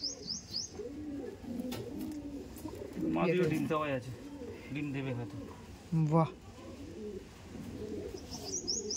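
Andhra pigeons coo in soft, repeated low throaty calls, close by, mixed with a few chirps while someone talks over them at intervals.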